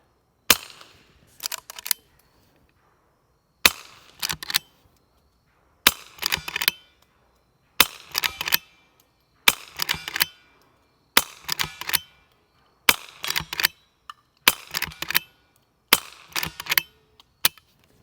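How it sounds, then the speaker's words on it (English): A Banish 22K suppressed .22 rifle fires CCI standard velocity ammunition, about a dozen quiet, sharp snapping shots spaced a second or two apart, each followed by a faint mechanical click, close with no talk. "Now this is just CCI, standard velocity ammunition. Crazy quiet. Sounds like a pellet gun."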